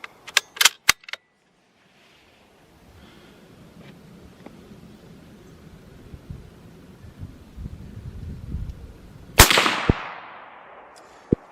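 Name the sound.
CZ 527 7.62x39 bolt action rifle shot, steel case ammo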